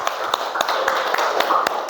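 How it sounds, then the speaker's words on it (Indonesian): Children in a classroom clap together in an even, rhythmic beat, the sharp hand claps close and lively over a soft murmur of voices. "Oke, tepuk tangan nak."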